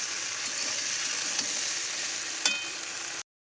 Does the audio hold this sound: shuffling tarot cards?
no